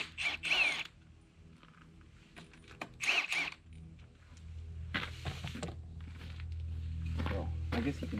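Impact gun loosening bolts on a ski, heard in two short loud bursts early on, followed by lower mechanical hum and handling noise, with a person talking between them.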